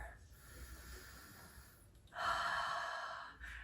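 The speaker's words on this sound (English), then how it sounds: "Take 3 big breaths, taking the shoulders up and down. Inhale up, exhale down, and one more." Deep breaths taken during a seated warm-up, a slow inhale and a louder, fuller exhale of steady airflow, close and clear with no talk over them.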